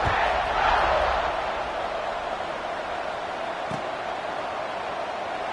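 A college football stadium crowd roars at a kickoff for the Volunteers, a loud swell of cheering early that settles into a steady wash of crowd noise.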